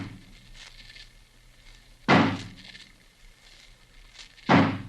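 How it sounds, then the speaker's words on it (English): Axe blows smashing into a locked door, staged as a radio drama effect: two loud, heavy wooden impacts about two seconds apart, with a fainter knock between them, heard alone over a quiet background. "Johnny, smash the door open for us."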